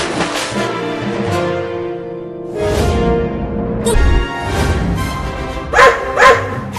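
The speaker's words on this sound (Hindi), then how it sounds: "वो दोनों कुत्ते बहुत गुस्से में लग।" Two dogs bark and yelp angrily in agitated bursts, with a couple of sharp barks near the end, loud and close.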